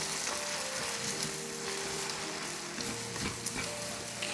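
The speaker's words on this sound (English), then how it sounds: "I'm going to give them a bit of a mix around." Eggs being stirred into pad thai frying in a pan, a soft steady sizzle with scraping stir sounds running throughout, fairly quiet and close.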